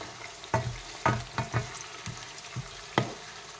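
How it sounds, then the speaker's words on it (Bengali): Ginger, garlic and onion fry with cardamom in a pan for khichuri, a soft steady sizzle broken by several louder hissing bursts as the spices are stirred, close and without voices. "আদা রসুন আর পেঁয়াজটা ভাজছি এলাচ দিয়ে"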